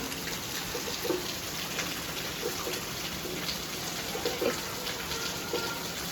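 Heavy rain pours down steadily as a dense, even hiss, with occasional louder drips and splashes close by and no one speaking.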